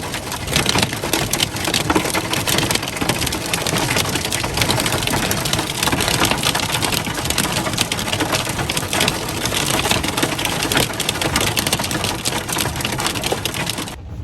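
Hail pounding hard and steadily, a dense unbroken roar of icy impacts lasting the whole time.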